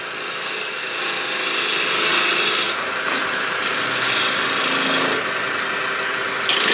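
A tool trims and cleans up a wooden tenon, making a continuous loud rasping, grinding cut with slight shifts in pitch and pressure, close up and alone.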